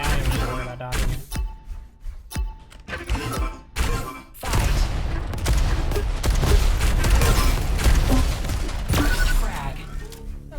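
Grenades explode amid gunfire in Alan Wake, with heavy booming blasts and crashing debris in rapid succession, dense and loud throughout.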